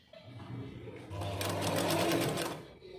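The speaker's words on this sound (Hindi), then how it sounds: "इसी लाइन में हमने सिलाई चलाना है।" A sewing machine stitching foam mop fabric along a marked line, running in a steady rapid whirring burst that rises and then stops, heard close with a voice talking over it.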